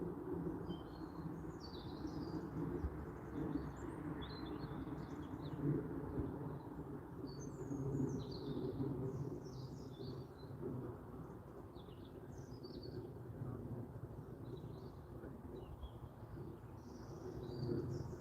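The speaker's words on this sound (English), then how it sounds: "Let me just go quiet so you can hear the birds." Birds chirping and singing outdoors beside a railway line, intermittent calls scattered throughout over a steady low wind-like rumble.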